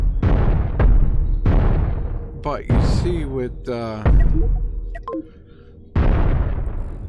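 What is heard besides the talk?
ship weapons auto firing and exploding in video game Cosmoteer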